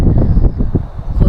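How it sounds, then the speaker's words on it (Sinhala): Wind gusts through pine trees at a camp near Kabaragala peak, a loud, uneven whooshing that rises and falls close to the microphone with no talking. "මේ පයින්ස් ගස් වලට මේ අර හුළඟ වැදිලා එන සද්දේ තමයි"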